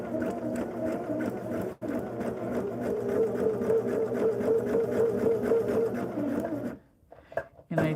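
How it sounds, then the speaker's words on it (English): A sewing machine stitches down a seam allowance on a quilt block with a leave-in foundation, running in a steady close whir for several seconds before stopping, with a few soft clicks after. "I'm gonna stitch down in the seam allowance so I keep it nice and, nice and flat"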